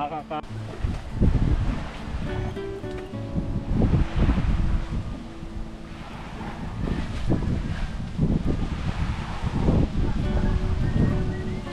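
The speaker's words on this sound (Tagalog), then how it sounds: "Sarap ng hangin dito, Kirong." Strong wind buffeting the microphone in gusts, with people talking over the rushing noise outdoors.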